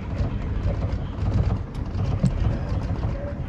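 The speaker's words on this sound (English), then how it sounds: "Whoa, listen to that thunder." A strong thunderstorm rumbles with low rolling thunder over steady rain and gusting wind, loud and continuous throughout.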